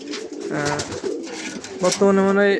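Big Gopalganj pigeons coo at a pigeon farm, their low throaty calls rolling repeatedly close by while someone talks over them.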